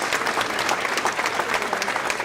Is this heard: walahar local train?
no